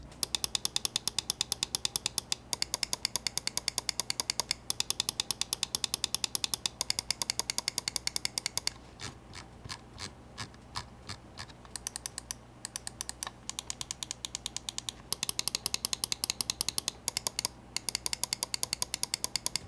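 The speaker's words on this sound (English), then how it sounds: "Now let's do a quick click test so that you can hear what this mouse sounds like." Rapid, crisp clicks from a Logitech G PRO X Superlight gaming mouse come in fast bursts, with a slower run of separate clicks midway, all close and without talk.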